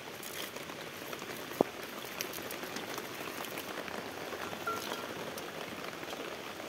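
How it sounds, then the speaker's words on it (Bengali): Heavy rain falling outdoors onto plants and leaves in a home garden, a steady even hiss of patter with one sharp click partway through, no voices. "হ্যাঁ দেখো জোরে বৃষ্টি পড়তে লেগেছে"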